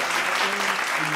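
Crowd applause and cheering at a South African music event, a loud, dense wash of clapping and voices with a low sustained tone underneath.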